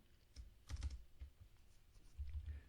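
Keys clatter on a computer keyboard while C++ code is being written, arriving as short uneven bursts of close, fairly quiet typing with brief pauses between runs.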